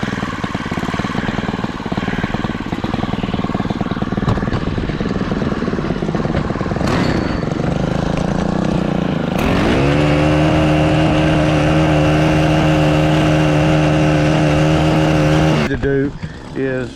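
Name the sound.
Stihl leaf blower blowing out debris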